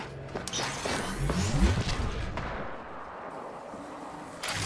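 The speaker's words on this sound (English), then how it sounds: "Opening fire on the enemy." Gunfire and explosions in the video game Apex Legends while playing Fuse, a dense burst of heavy booming shots and mechanical clatter, loud and close, followed by a fading rumble.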